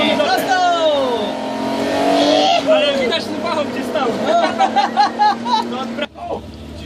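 A rally car at the Barbórka rally accelerates hard, its engine roaring and climbing in pitch through the gears close by, while excited voices shout over it.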